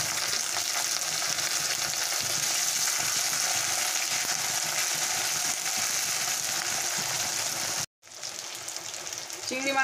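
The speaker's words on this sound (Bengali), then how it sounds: "চিংড়ি মাছটা আমার ভাজা হয়ে গেছে।" Shrimp frying in a pan crackles in a steady dense sizzle with scraping stirs, broken by one brief silent gap before the hiss resumes.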